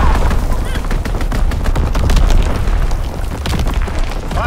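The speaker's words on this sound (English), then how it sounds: "Firing for full effect" Artillery barrage explosions pound in Call of Duty WWII, a loud, dense, continuous rumble of booms layered with rapid gunfire, close and overwhelming for the whole stretch.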